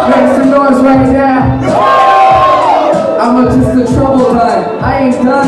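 Crowd at a live hip hop show cheering and shouting loudly and continuously, with voices and a rapper's call over the music-like bed of noise.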